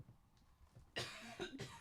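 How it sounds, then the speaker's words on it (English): A person coughs loudly two or three times in quick succession, close by, after a faint, quiet lead-in. "He's coughing."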